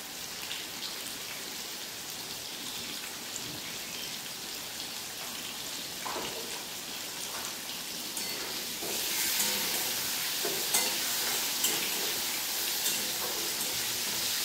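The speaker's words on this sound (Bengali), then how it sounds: "নুন হলুদ দিয়ে মাছের আলুটা খানিকটা ভেজে ভাজা ভাজা করে নিয়েছি।" Potato pieces for a fish curry fry in oil with salt and turmeric, giving a steady hiss dotted with small crackles that grows louder and denser partway through, with no talking.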